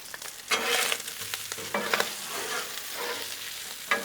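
Strips of bacon frying on a Blackstone flat-top griddle over heat turned nearly to low, a steady close sizzle with scraping and stirring bursts from a spatula running throughout, with no talking.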